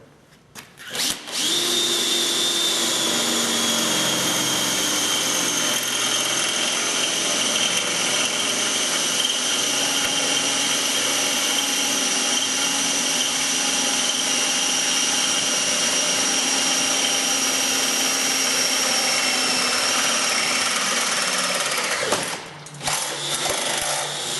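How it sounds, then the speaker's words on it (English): A power drill with a starter bit whines steadily at high speed for over twenty seconds drilling an entry hole before coring, close and loud, then winds down and stops near the end. "you will drill your entry point with this bit"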